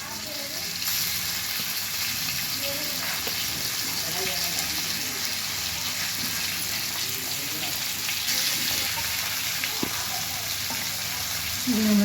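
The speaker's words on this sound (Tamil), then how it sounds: "நம்ம திருப்பி போட்டாச்சு. அது நல்லா ஃப்ரை ஆகட்டும்." Fish frying in a pan after being flipped produces a continuous, dense sizzle with crackling oil, steady and close for the full length with only faint incidental clinks.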